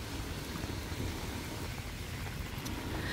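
Rain falling outdoors on a rainy day, a dense, steady hiss of drops spreading evenly across the whole stretch, with no talking.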